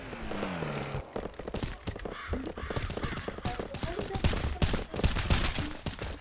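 Video game gunfire crackles in sharp, rapid bursts and scattered single shots, fairly close, with voices talking over parts of it.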